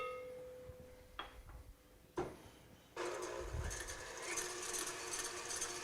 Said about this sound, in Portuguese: Enquanto está batendo o creme de leite fresco, vou adicionar a gelatina já hidratada e derretida.